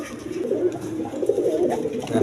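Two male pigeons coo continuously in low, throaty, rolling calls, close and fairly loud, overlapping with each other throughout.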